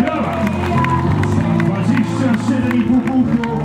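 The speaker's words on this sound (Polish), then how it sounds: "Wielkie brawa!" Loud crowd applause and cheering for Norwegian strongman Ole Martin Christiansen at a strongman competition in Kartuzy, steady dense clapping with background crowd noise throughout.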